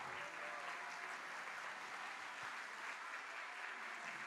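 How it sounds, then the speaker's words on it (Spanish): Sustained applause from an audience at a team recognition event, a dense, even patter of many hands clapping continuously, heard at a moderate distance without speech. "darles fuertes aplausos"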